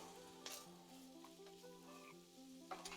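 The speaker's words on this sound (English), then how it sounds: "we're going to let our veg stir fry in the sesame oil" Vegetables stir-frying in sesame oil give a steady, fairly quiet sizzle, with a few brief clatters of stirring and a sharper scrape near the end.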